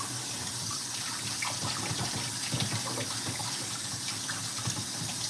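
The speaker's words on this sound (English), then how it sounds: "Let me wash my spoon." Water runs steadily from a kitchen tap as a spoon is rinsed after cooking black bean rice with chicken, a continuous close splashing hiss with no talk.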